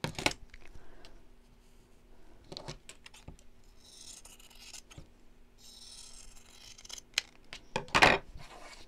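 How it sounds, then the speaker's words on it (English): Scissors cut around a drawn line on folded paper in a series of short, close snips and rasping slides, with a louder crisp snip near the end and no talk. "So now I can fold this in half and cut around the line."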